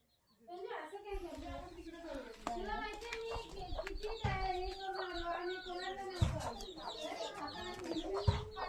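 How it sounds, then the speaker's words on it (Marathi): A hen sitting on eggs in her nest in a village yard clucks in a steady, repeated run of close calls, with voices talking over it throughout. "ही बघा कोंबडी बघा अंडा द्यायला बसलेली आहे रवणावरती."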